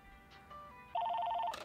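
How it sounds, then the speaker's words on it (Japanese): A telephone rings in the video game Lake, a bright electronic trill pulsing rapidly for about half a second after a couple of softer tones, clear and close. "電話が鳴る。"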